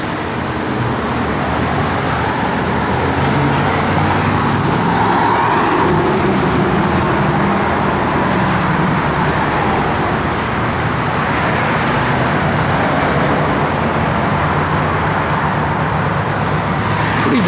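A 1972 Dodge Charger Rallye with Flowmaster exhaust and machine gun tips idles steadily, giving a loud, continuous low engine rumble with no talk over it.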